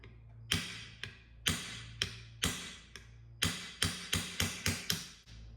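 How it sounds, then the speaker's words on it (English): A small brass bench hammer strikes a punch to drive a rivet out of a Remington 870 shotgun ejector: about a dozen sharp, close metallic taps, spaced out at first and then coming in quicker clusters, with no voices. "I'm gonna start with a smaller hammer. This is just a little brass hammer that I keep on the bench"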